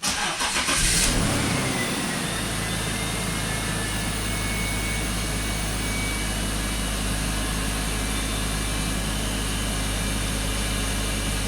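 A BMW X5 engine starts and then idles smoothly and steadily with no misfire, a constant low hum that runs alone for about ten seconds.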